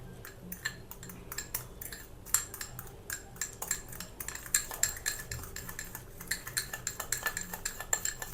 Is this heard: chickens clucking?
no